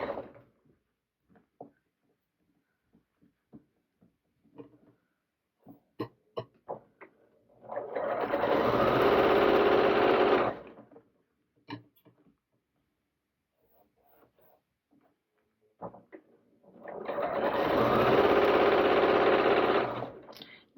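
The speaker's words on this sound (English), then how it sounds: "I'll try to keep that fold as consistent as I can as I'm sewing my hem." A sewing machine stitches the hem of a small doll dress in two sustained whirring runs of about three seconds each, between quiet handling clicks and taps.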